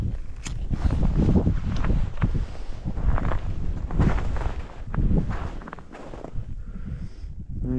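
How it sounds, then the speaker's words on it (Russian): Strong gusty wind roars over a frozen lake in a snowstorm during winter ice fishing for pike, buffeting the microphone in steady loud surges with faint rustling. "Смотрите, как загибает, какое ветрище."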